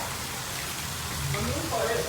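Rain falls steadily outside a house during a power cut, making a constant soft hiss of drops with faint voices underneath.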